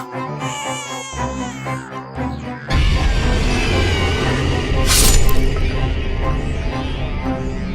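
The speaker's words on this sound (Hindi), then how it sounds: "बच्चों के रोने की आवाज" Children crying and wailing in a dramatised horror scene near a witch's nest, sobbing cries rising over a dense, loud musical background with a sharp burst partway through.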